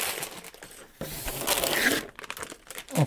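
Plastic parts bags crinkle and crumple loudly up close as a Wange school bus building set is unpacked, with bursts of rustling and tearing and brief pauses between them.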